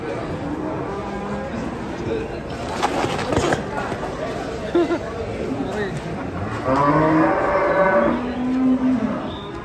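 Large Pegon cattle moo in long, low calls while being unloaded from a truck, with people talking nearby and some clattering movement in the background.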